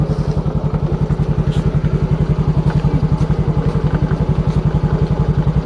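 A motorcycle engine chugs close by in a fast, even, regular pulse, loud and steady for the whole stretch, with faint background noise around it.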